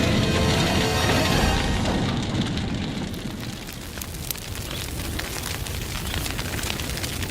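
A bushfire burns through a eucalyptus forest, a dense roaring crackle with scattered sharp pops and snaps, loud and steady throughout with no voices.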